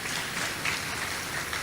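A church congregation claps together during a sermon, a continuous wash of applause from many hands, even and moderately loud across the short moment with no talking.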